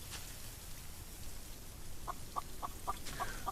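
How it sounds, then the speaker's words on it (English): Chickens cluck in the video game Solarpunk, a short series of faint, evenly spaced clucks over a soft rain-like background hiss. "I hear you guys clucking."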